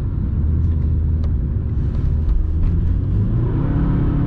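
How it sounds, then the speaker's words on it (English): An Audi A3 1.9 TDI with 155 hp and very wide 15-inch wheels accelerates hard on a wet city road, its diesel engine giving a loud, steady, close-up rumble that continues without a break. "You can see a lot of wheel spin on this wet road"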